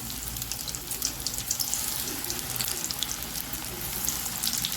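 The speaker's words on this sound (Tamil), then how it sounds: "எண்ணெய் காஞ்சது, நம்ம இப்போ போண்டா போடலாம்" Spinach (vallarai keerai) bonda batter pinched into hot oil and frying, giving a steady, close, bright sizzling hiss with small popping bursts throughout.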